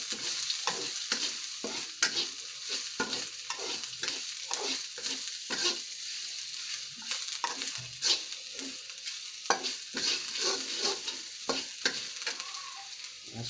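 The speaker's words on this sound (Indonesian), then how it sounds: "Lalu kita aduk kembali." Shallots frying in a pan are stirred with a utensil, giving a steady sizzle broken by rhythmic scraping strokes throughout, close and fairly loud with no talking.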